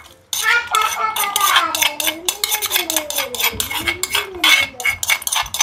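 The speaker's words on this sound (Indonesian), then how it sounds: "kita tumis sebentar teman-teman ya" A spatula stirs and scrapes ground spice paste frying in oil in a pan, making a steady, close metallic clatter throughout, with a faint voice-like hum running underneath.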